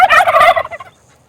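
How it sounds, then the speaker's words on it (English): Farm turkeys let out a loud, close burst of gobbling that trails off into quiet after about a second. "If they gobble every time I talk, it's not going to make a very good video."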